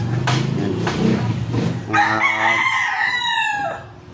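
A 5K Sweater or Golden Boy gamefowl rooster crows close and loud, with a long drawn-out harmonic call in the latter half following earlier clucking and farmyard noise.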